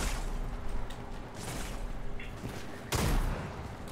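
Gunfire in a video game, a run of sharp shots spread through the stretch with a heavier, louder burst near the end, set over a steady low game rumble.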